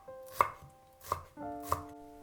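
Three sharp knife chops through Chinese cabbage leaves on a cutting board, evenly spaced and close, with quiet pauses between strikes and no talk.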